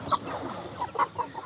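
A rooster on a German farm gives several short clucks in an uneven series. The calls sound moderately close, over faint farmyard background.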